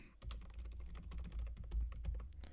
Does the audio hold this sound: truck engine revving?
no